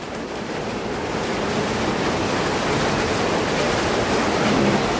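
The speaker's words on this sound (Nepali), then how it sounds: "पानी पनि खतरा पर्दैछ बाहिर" Heavy rain pours down outdoors as a dense, unbroken roar of broadband noise, loud and steady, swelling slightly toward the end, with no voices.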